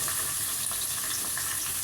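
Onion frying in a pan with mint and coriander for a pomfret coconut fish curry, a steady, close, soft sizzle with faint crackles running throughout, no voices.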